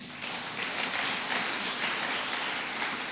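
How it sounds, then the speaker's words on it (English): A church congregation claps together during a worship service, a soft, even patter of many hands heard from a little distance. "Clap for Jesus."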